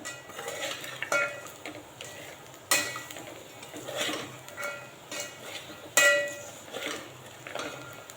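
Two packets of soya chunks roast in oil in a pan, the faint frying hiss broken by irregular metal clinks and scrapes of a spoon stirring against the pan, close and alone without talk.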